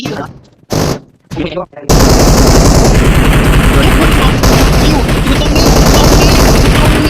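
Loud, sustained automatic gunfire from an online video game, a dense rattling barrage after a few short speech bursts, with someone talking over it.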